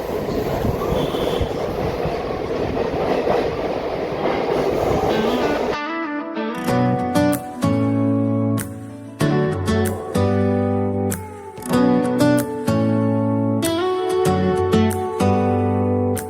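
An MMTS local train pulls out of Kacheguda railway station with a close, loud rumble and rattle of wheels on the rails for about six seconds, then music takes over.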